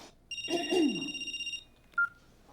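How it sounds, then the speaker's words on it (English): A telephone rings once with a bright, warbling electronic bell lasting over a second, followed by a short faint beep, in a quiet room. "A phone call."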